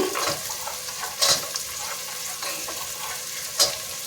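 Chopped carrots and beans frying in oil in a home kitchen pan, a steady soft sizzle with a couple of brief scraping stirs.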